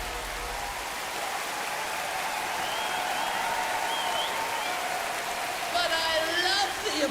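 Dense, continuous applause from a large concert-hall audience at the Proms, steady and sustained throughout, with a brief brighter burst of clapping near the end.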